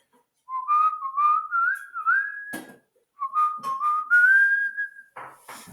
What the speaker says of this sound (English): I'll whistle a tune while you choose three.